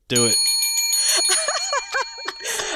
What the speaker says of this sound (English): This is like only the second episode we've used the bell on.